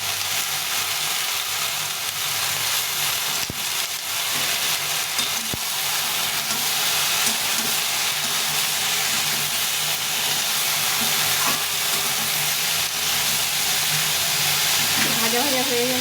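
Vegetables frying with salt and turmeric in a pan for a kacha bora curry, producing a loud, continuous close hiss and sizzle with occasional stirring, and faint voices in the background.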